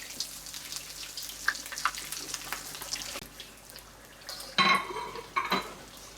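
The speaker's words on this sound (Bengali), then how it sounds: "তো আমি এইভাবে বাকি সবগুলো সমোসা ফ্রাই করে নিচ্ছি।" Samosas deep-frying in a pan of oil give a low, steady hiss, with sharp metal-on-metal clatters near the end from utensils against the pan.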